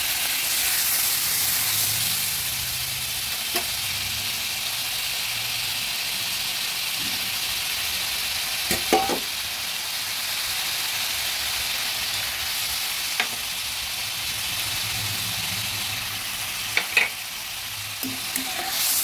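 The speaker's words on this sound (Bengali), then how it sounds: "জল দিয়ে মশলাগুলো ভেজে নিচ্ছি।" Spices frying with a splash of water for a light katla fish and green banana curry hiss and sizzle steadily in a pan, with occasional spoon knocks and scrapes from stirring throughout.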